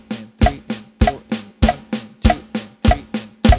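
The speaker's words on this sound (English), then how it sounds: "So I'm going to play here the section of the crescendo here with the metronome so you guys have an idea," A drum kit plays a crescendo section of a song, with regular kick and snare hits in a steady pulse alongside a ticking metronome, close and clear with no talk.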